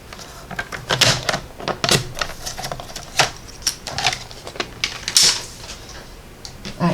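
Scissors snipping a strip of card for a handmade butterfly card, a run of crisp cuts in an uneven rhythm, close and fairly loud, with no talking.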